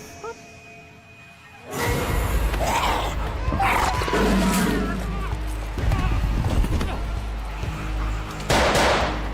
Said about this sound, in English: The male officer fires a few shots, but the old woman does not fall down.